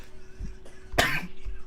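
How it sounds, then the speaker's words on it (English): A single harsh cough bursts out near the middle, close and fairly loud, with faint low thumps and murmurs around it but no clear speech. "I don't want you to die coughing, dude."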